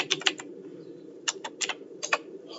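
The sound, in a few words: typing on a computer keyboard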